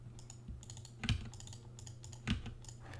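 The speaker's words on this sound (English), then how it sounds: "Got a new keyboard." Typing on a new computer keyboard, with quiet steady key clicks throughout and two louder thumps standing out, close and moderately soft with no talking.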